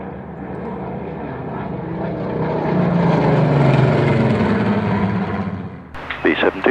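Engine roar of a B-17 bomber flying at the Duxford air show, building to a loud broad rumble near the middle before easing off, with voices coming in at the end.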